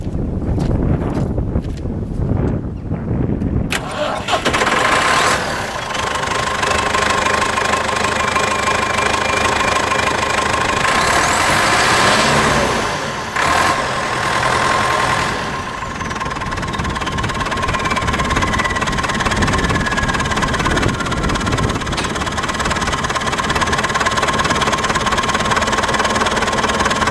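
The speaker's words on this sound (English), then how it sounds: "Let's crank her up." A turbocharged farm tractor used for baling cranks with a few uneven turns, catches and fires up, then settles into a loud, steady, rumbling idle close by with a faint turbo whine.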